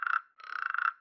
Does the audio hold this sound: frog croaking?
yes